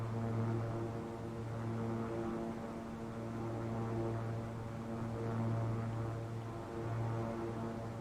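Steady droning hum of twin turboprop engines on a Beechcraft King Air 350 climbing just after takeoff, with a constant propeller tone that swells and eases slightly, no talking.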